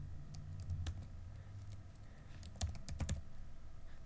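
Quiet, close typing on a computer keyboard while names are entered in the Manjaro 0.8.8 Xfce graphical installer, scattered single key clicks followed by a quick burst of several keystrokes.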